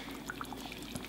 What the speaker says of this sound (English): And cover with hot boiling water.